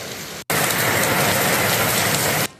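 Heavy downpour lashing northern Taiwan north of Miaoli, with roads flooding in Taoyuan: a dense, steady roar of rain starts abruptly after a brief gap and holds loud and uniform for about two seconds before cutting off, with no voices.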